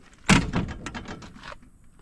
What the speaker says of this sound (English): So yeah, I'll kind of close this door for you.